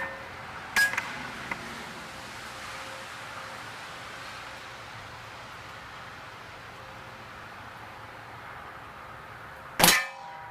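A single sharp crack from a Xisico XSP180 .22 spring piston break barrel air pistol fired with open sights, loud and close near the end, with a smaller click earlier amid quiet room noise.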